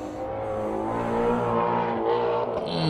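A 2015 or 2016 Ford Mustang engine revs hard, a loud, sustained, rising growl that holds steady throughout with no talking over it.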